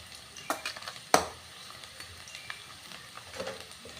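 Onions frying in a pan over gas: a soft, steady sizzle under sharp clinks and scrapes of stirring, one loud clatter early on, close and fairly quiet, with no talk.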